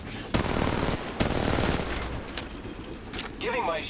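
Rapid automatic gunfire in the mobile shooter Apex Legends Mobile comes in several loud sustained bursts, fading into softer shots near the end, with faint in-game voices underneath.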